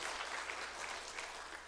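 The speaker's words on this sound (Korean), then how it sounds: "다시 한번 우리 하나님께 영광의 박수 같이 올려보내주세요." A church congregation gives a round of applause, continuous crowd clapping heard from some distance in a reverberant sanctuary, fairly faint and steady throughout.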